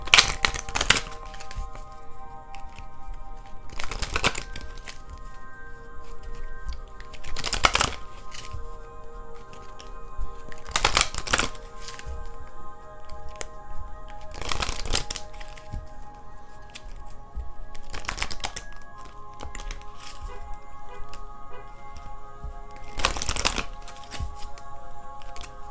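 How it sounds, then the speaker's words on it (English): Tarot cards being shuffled in a series of loud riffling bursts roughly every three to four seconds, repeated six or seven times over a low steady background with no talking. "Let me pull out some more cards for the Virgos"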